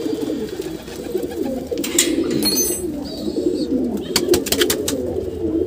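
Domestic pigeons coo in a loft, their soft, low, rolling calls repeating close by, broken by a few sharp rustles and wing or cage clatters.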